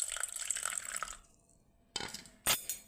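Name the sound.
hot water poured onto salt in a bowl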